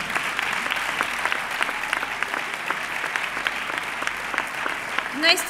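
A crowd applauds at a sports awards gala in San Sebastián de los Reyes, with steady, dense clapping and a few sharper individual claps standing out. A brief noise intrudes near the end.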